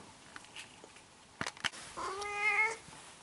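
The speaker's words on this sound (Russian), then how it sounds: "С утра пораньше мяукает прямо вся." A cat meows in a drawn-out, wavering cry near the end, preceded by a few faint clicks and rustles in a quiet room, with no voices present.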